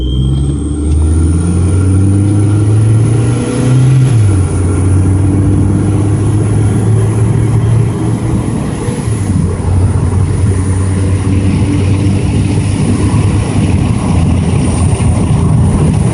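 A turbo-equipped car accelerating, heard from inside the cabin with the windows down: a loud, steady engine drone with a rising and shifting tone, a high whine running throughout, and wind and road rumble beneath.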